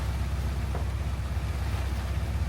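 Heavy rain pours down outdoors in a steady, loud broadband wash with a deep constant rumble, continuous and unbroken throughout, with no talking.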